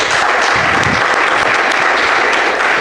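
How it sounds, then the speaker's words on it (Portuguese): A church congregation claps at a Holy Communion service, a dense, steady wash of applause filling the whole stretch at full, even loudness without pause. "Para o Senhor Jesus uma linda salva de palmas"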